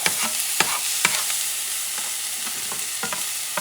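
Grated tomato is stirred into lamb stew in a hot pan, a steady loud sizzle with faint scraping strokes of the spoon against the pan, close by and without talk.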